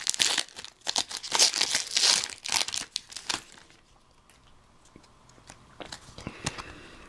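A Pokémon POP Series 9 booster pack wrapper is torn open up close, with sharp crinkling and ripping foil bursts over the first few seconds, then quieter scattered rustles and crackles of handling.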